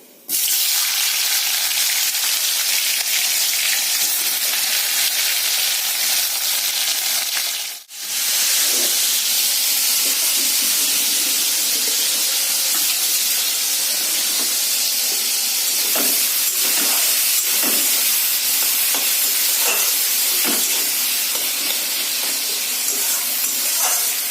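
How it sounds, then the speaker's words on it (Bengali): Tomato dropped into hot oil in a kadai over ground ginger, garlic, onion, green chilli and cashew paste, giving a steady loud hiss and sizzle throughout, with a brief dip partway and scattered spits and pops. "এবার আমি টমেটোটা তেলের উপরে ছেড়ে দেবো"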